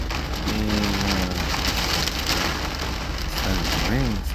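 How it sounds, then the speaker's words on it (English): Heavy rain pounds a truck during a thunderstorm at a roadside stop, a dense, loud, unbroken drumming of drops with faint tonal sounds weaving through it. "starting to rain really bad"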